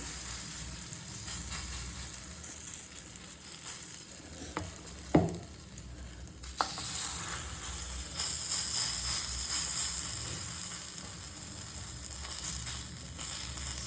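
Idli omelette batter is ladled onto a hot dosa griddle. A soft crackling sizzle comes up, with a couple of sharp scraping clicks, then the frying grows louder and steadier.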